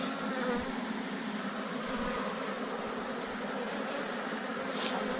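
A swarm of honeybees gathering at a hive hums in a dense, continuous buzz, steady and close, with no talk over it.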